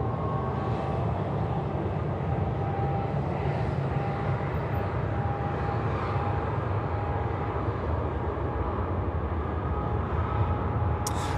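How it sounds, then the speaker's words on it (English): A China Southern airliner departing runway 16 right at Sydney Airport at night gives off a steady, broad jet roar that holds from start to finish. It sounds distant, with a faint tonal whine riding on top. "China Southern now to roll out and depart here at runway 16 right"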